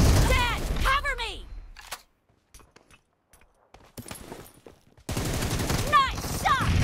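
Rapid bursts of gunfire in a PUBG Mobile team deathmatch, a brief crackling volley in a gap between stretches of loud game voice lines and player talk.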